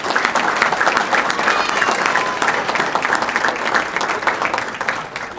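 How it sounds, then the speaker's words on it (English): Sustained applause from an audience at a university hall of fame induction ceremony, dense steady clapping filling the hall for several seconds at even loudness. "let's give them a big round of applause."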